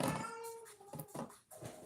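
A cat meowing close by, with a few short drawn-out cries in quick succession at low volume.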